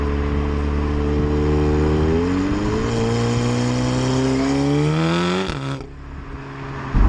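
A tuned 420 bhp Audi S3 8V with a downpipe revs hard, its engine note climbing steadily before cutting off abruptly at a DSG gearchange with a sharp fart-like crackle, then picking up again, loud and close.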